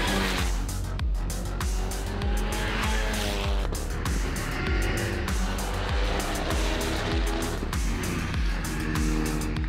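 Race cars lap the Monteblanco circuit during a season-final race, their engines loud and continuous as they rise and fall through gear changes, with tire noise audible.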